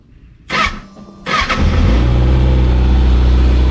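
A 2020 Kawasaki ZX6R motorcycle starting up close by: two bursts of starter cranking, then the engine catches and settles into a loud, steady idle.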